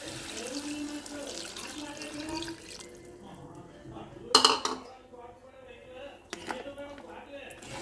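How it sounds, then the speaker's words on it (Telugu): Water poured into a curry pan of coriander curry in a home kitchen, a running splash with clinks of pots and utensils, fairly close and moderate in level. "ఇది అయ్యాక ఫస్ట్ మనం వాటర్ వేసుకోవాలి."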